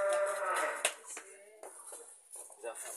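A tall dairy cow close to calving, kept in a village shed, gives a loud close moo, followed by people talking nearby and scattered handling noises.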